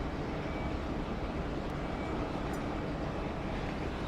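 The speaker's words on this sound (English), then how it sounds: "We've got the Jetstar 913 now from Townsville on approach" Jetstar flight from Townsville on approach to Sydney's runway 34 left, a steady broadband jet roar, distant and fairly faint, with no talk.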